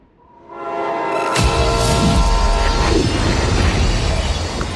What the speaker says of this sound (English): You're about to board a moving train.